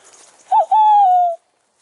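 A single clear owl hoot, a short note followed by a longer drawn-out call, close and loud against quiet background.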